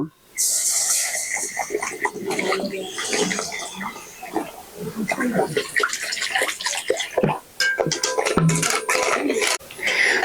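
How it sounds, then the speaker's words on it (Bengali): Water hits hot caramelised sugar in a pan with a loud, sustained hiss and sputter that lasts for several seconds, close and steady with a few brief dips. "এখন আমি এর ভিতরে পরিমাণ মতো জল দিয়ে দেব"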